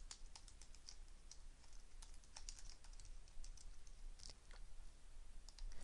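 Steady, rapid keyboard typing with irregular clicks and occasional louder key strikes, close by and continuous throughout.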